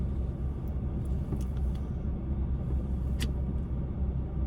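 A car engine idles low while the driver parks at a park, a steady rumbling drone with a few faint clicks on top and no talk.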